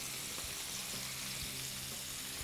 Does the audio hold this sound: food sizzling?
yes